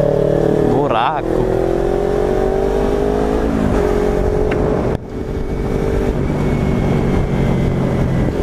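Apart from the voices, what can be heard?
Kawasaki Ninja 300 motorcycle engine popping from bad gasoline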